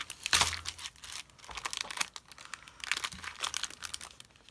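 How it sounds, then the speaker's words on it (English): Paper sticker packaging being ripped and cut out close up, with crinkling, tearing rustles and small crisp snips in irregular bursts and no voices. "And I actually will try to rip this off or cut it out."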